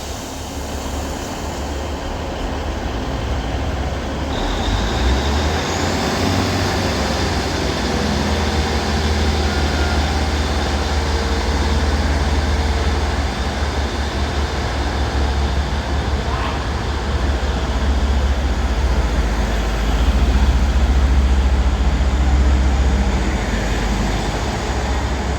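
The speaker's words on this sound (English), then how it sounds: "Now departing is going to be the delayed 1404 Northern service to Clitheroe" A delayed Northern diesel service to Clitheroe pulls out of Bolton station, its engine and wheels giving a steady low rumble that builds gradually over about twenty-five seconds, heard from the platform.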